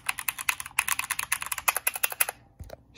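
Typing on a Red Dragon K530 Draconic keyboard, rapid clacky keystrokes in a fast irregular burst, close and loud, ending with a couple of final taps.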